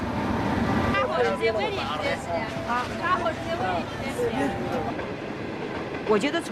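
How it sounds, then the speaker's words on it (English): A night train bound for Anhui, China, rumbles steadily along the rails throughout, its continuous clatter running beneath a voice that talks over most of it. "They're taking the night train home to Anhui,"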